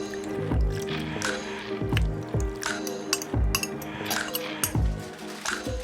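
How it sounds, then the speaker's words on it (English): Braising liquid poured into a pan of smoked country-style ribs, with close splashing, dripping and liquid sloshing alongside light clinks of the pan, steady throughout. "put them in a pan, and add the braising liquid"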